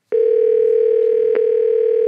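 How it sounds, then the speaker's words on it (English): A telephone tone rings steadily during a call, a loud continuous tone heard alone with a brief click near the start and another partway through. "It's ringing."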